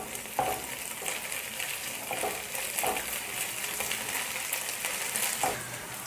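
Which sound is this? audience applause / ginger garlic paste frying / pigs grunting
ginger garlic paste frying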